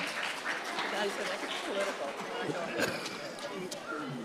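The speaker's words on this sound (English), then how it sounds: "let's give them a round of applause as they are exiting" Scattered clapping rises as students exit at a citizenship challenge, mixed with voices, footsteps and crowd chatter, moderately loud and uneven.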